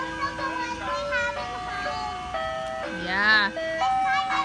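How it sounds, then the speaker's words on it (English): An ice cream truck in Canada plays its jingle, a clear, loud chiming melody of steady tones, while people talk nearby. "So those, that is the ice cream cart. Ice cream truck."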